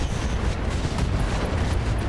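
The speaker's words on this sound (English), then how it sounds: "AC-5 ammo explosion" AC-5 autocannon ammo cooking off in the mech combat game RogueTech, a dense, rumbling low-end explosion that fills the whole moment with sustained booming noise and no talk over it.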